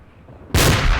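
A small mortar fires once in a combat video game, a sudden loud blast cutting in after near silence and holding as a heavy boom.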